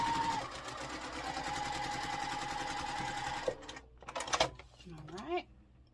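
A home sewing machine stitches a quilt block for a Salt Lake City sampler, running in a steady fast buzz for about three and a half seconds, then stopping amid fabric handling and light clatter.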